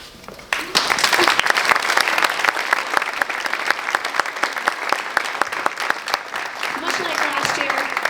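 Audience applause fills a chapel after a talk, loud sustained clapping from many hands that swells in under a second and carries on steadily to the end.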